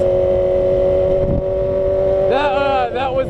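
A 2007 Yamaha R6 fitted with an Akrapovic Megaphone exhaust holds a steady drone, then blips its throttle twice, the engine note sweeping sharply up and back down, loud and near.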